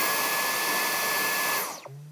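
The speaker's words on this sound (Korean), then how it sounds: "무선 청소기 소음 좀 거슬려 하는 분들 많으신데 제가 동작 모드별로 소음을 측정해 보겠습니다" A Dyson DigitalSlim Fluffy cordless vacuum cleaner whines loudly and steadily in boost mode, then its motor abruptly winds down with a falling pitch and a faint low hum as it shuts off.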